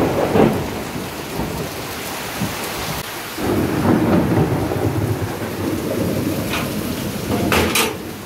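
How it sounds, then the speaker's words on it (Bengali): Heavy rain pours down steadily outside a house, close and loud, with low rolling thunder and occasional sharper drips and knocks. It runs on without pause and no one speaks. "অনেক বৃষ্টি হচ্ছে।"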